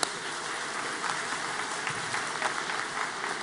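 Audience applause fills a commencement ceremony hall, a steady dense wash of many hands clapping at moderate volume that holds evenly throughout without voices.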